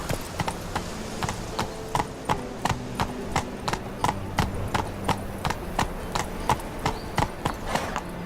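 Horse hooves gallop in The Witcher 3, a steady, evenly spaced clip-clop on a hard surface, close and prominent, with faint ambient sound beneath and no talking.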